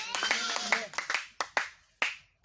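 Claps and cheers from a church congregation acclaiming Jesus during a French-language service, starting as a busy burst of clapping and voices, then thinning into a few separate sharp claps spaced across the moment.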